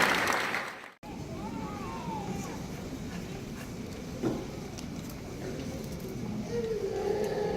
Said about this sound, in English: Now let's give all our students a round of applause.